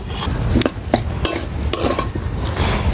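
A spoon stirs peanuts into a spiced potato mixture in a pan for aloo chop, giving repeated metallic scrapes and clinks at an uneven rhythm over a low background hum.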